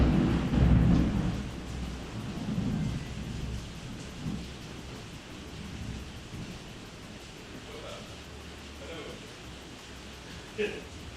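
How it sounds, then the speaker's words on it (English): Steady rain and rumbling thunder from a storm outside, a broad low roar strongest at the start and easing into a constant wash of rainfall with faint scattered patters, heard from indoors at moderate distance. "Can you guys hear the rain?"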